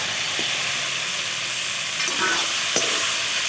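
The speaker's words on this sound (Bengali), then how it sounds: "এবার দিয়ে দিচ্ছি ভেজে রাখা পটল আর আলু" Pre-fried pointed gourd and potato pieces go into a spiced masala in hot oil. A constant loud sizzling hiss carries a few faint stirring clicks.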